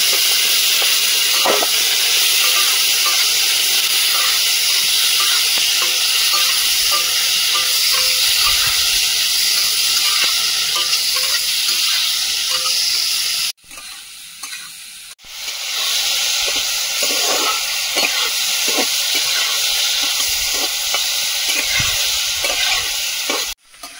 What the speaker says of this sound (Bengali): চিনিটা ভেজে নেব